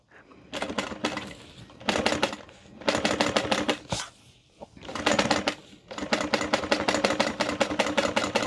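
A sewing machine stitches a zipper onto a handbag in steady, fast mechanical bursts, starting and stopping several times with short pauses between runs, close and loud with no talking.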